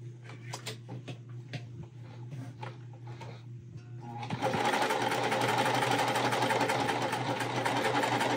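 A sewing machine runs a seam on a quilt block, first as soft intermittent ticks and taps, then a continuous close, even whirring stitch through to the end.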